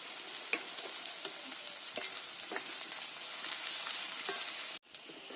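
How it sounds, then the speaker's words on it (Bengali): Sliced onions fry with a bay leaf in oil in a pan, giving a steady soft sizzle with occasional light stirring clicks, close and without any talk. "পেঁয়াজটা আমার লাল লাল করে ভাজা হয়ে গেছে।"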